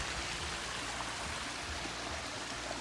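A High Sierra mountain stream rushes steadily downhill in mid-September, a dense, even wash of flowing water filling the whole span with no voices.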